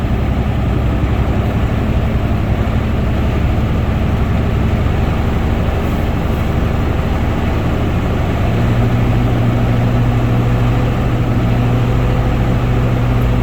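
Truck engine running steadily while driving at about 25 mph, a loud continuous low rumble with no talk, its drone rising slightly in pitch partway through.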